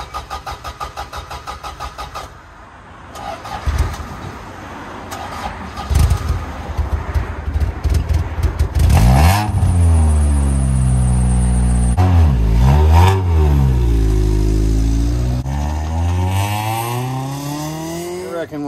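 A Toyota Corolla drift car, an AE86 or TE72, cranks and fires up, then revs loudly and repeatedly up and down close by before settling.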